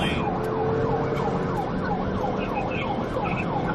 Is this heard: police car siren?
yes